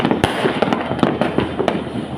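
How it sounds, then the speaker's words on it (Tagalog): New Year's Eve fireworks bursting over a town center, a rapid scatter of sharp cracks and pops, some close and loud, others fainter, overlapping in an irregular crackling barrage. "napakaganda sa sentro ng bayan po ay mga pumuputok"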